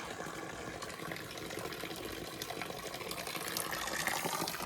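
Steady rushing fresh drinking water runs continuously at a moderate, even volume in a mountain setting, swelling slightly louder toward the end, with no voices.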